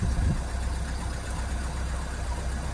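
A Fiat Talento 1.6 dCi van engine idling just after starting, with a fault showing turbo boost trouble; a steady low rumble close by, with no talk.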